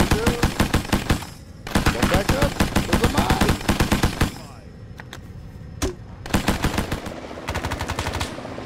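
Rapid automatic gunfire from the Vietnam-era ARMA 3 S.O.G. Prairie Fire game, loud bursts of machine-gun fire in several long strings with brief gaps and a lone shot between, close and dominant.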